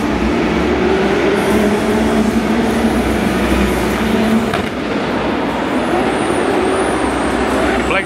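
A diesel drift car at a Drift Masters event roars loudly under a big open-air crowd ambience, with a sustained rough engine drone and a brief dip near the middle before the noise swells again.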